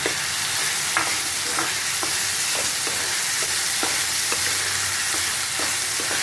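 Pre-fried potatoes stirred into a cooked spiced masala in hot oil: a steady, loud sizzle with regular scraping stir strokes roughly every half second, close up and with no talking.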